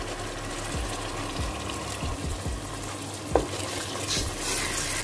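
Onions with tomato paste are stirred and fried in a pan for chana dal, soft sizzling under repeated spoon strokes and scrapes, close and fairly quiet, with no talk.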